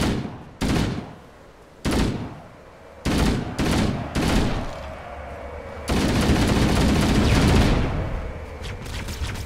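Gunfire from the video game Halo: Combat Evolved: a string of loud, sharp shots in irregular bursts, followed by a sustained dense stretch of rapid firing and explosions.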